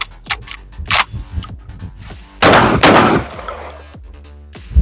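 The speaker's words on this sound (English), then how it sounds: "So that is loaded up with 4 slugs. These are the Sterling Tornado slugs." Shotgun firing four Sterling Tornado slugs, loud sharp reports with clicks and mechanical handling between them, then a denser burst of blasts, close and with no talk.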